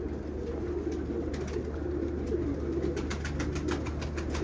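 Pigeons at a bird tower coo softly and repeatedly in a low, rolling rhythm over a steady background hum, fairly near and without talk.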